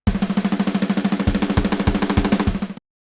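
A programmed pop punk drum roll played flat without accents, a fast even run of about twenty-five similar hits with occasional heavier low strikes, close and alone for nearly three seconds.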